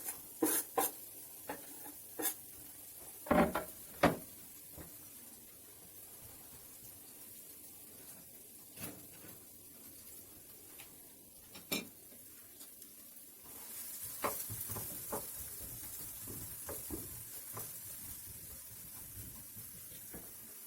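Finely diced onion frying in hot vegetable oil gives a steady, close sizzling hiss broken by scattered sharp pops and crackles, turning louder and denser partway through, with no voices.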